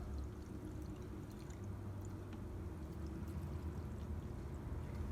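Non-ethanol two-stroke fuel mix pours steadily into the tank of a Husqvarna Rancher 450 50cc chainsaw, a faint, continuous low gurgle and trickle with no voices.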